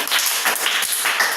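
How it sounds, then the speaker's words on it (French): Church audience cheering and applauding as a young talent takes the stage, bursts of clapping and shouts, loud and close, briefly rising and falling. "Quand il monte, vous acclamez très fort."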